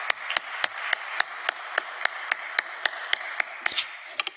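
Sparse, slow claps from a few people in a committee session, a dozen or so separate sharp hits spaced roughly evenly over a few seconds, fairly quiet against a low room hum.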